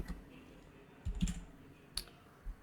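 Sparse, quiet clicks of typing on a computer keyboard, a few separate keystrokes in a near-silent room.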